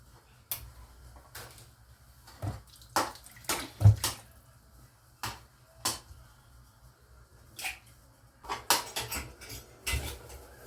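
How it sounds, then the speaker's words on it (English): Eggs whisked in a bowl for a vegetable rolex, heard as irregular light clinks and taps of utensil against dish, spaced in short bursts with quiet gaps between. "I want to beat it."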